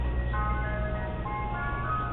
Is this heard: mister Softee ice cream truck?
yes